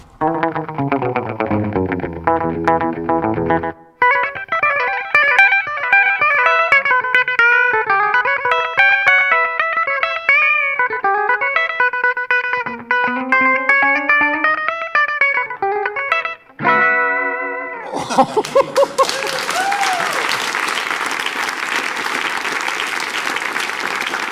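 Distorted electric guitar plays a fast, bending lead line with effects, stops briefly, then gives way to loud applause from a crowd.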